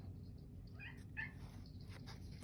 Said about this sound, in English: If you hear meowing in the background, my cat just came in for a visit.